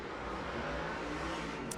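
Late model race cars roar around an Arizona speedway oval at night during SWDRA heat racing, a steady dense engine drone held at moderate distance throughout with no break.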